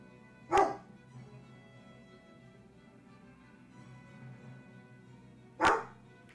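A puppy gives two sharp barks about five seconds apart over a quiet, steady background hum, with no talk.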